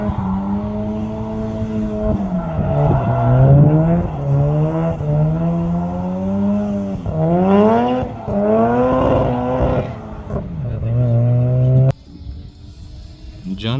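A Mazda FC RX7 drift car runs on track, its rotary engine revving up and down in repeated rising and falling sweeps, loud and close, before cutting off abruptly near the end.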